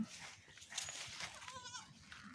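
Goats bleat faintly a few times at a distance in the Philippine countryside, the wavering calls coming in short bursts over quiet outdoor background.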